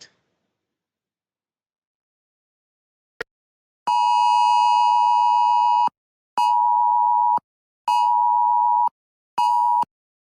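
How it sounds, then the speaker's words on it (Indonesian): A drowsiness-detection alarm in a student demo: after a faint click, a loud steady electronic beep sounds for about two seconds, then repeats as three shorter beeps with brief gaps, with nothing else around it. "alarm atau bunyi yang tadi akan aktif selama 6 detik untuk membangunkan orang yang sedang mengantuk tersebut"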